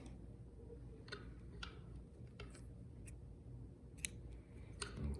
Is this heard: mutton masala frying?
no